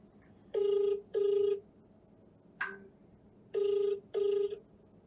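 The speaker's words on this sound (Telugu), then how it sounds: "ఒకసారి అందశ్రీ గారికి కాల్ చేసి చూద్దాం." A telephone rings back while a call is placed: four loud, close electronic ring bursts in two pairs, with a brief chirp between them, over quiet room noise.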